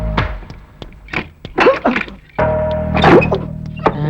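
Knocking on a wooden door in a Tamil comedy film scene, several sharp thunks spaced across a few seconds over a busy background of music and room sound, with no speech.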